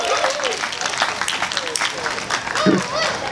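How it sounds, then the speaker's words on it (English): An audience at an outdoor big band concert at a weekend music festival claps steadily as someone talks over the applause. "Big round of applause for Katie"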